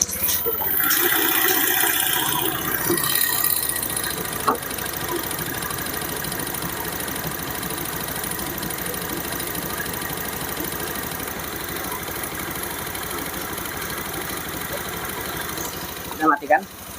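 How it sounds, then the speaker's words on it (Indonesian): A steady, low motorcycle engine idle rumbles continuously at close range, with a brief mechanical clatter near the start and a couple of sharp knocks near the end. "Langsung saja ya kita analisa dari suara mesin."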